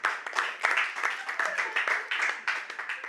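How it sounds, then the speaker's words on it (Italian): A studio audience gives a brief, moderate round of applause, steady clapping with some voices mixed in. "L'applauso qui però ci stava bene l'applauso"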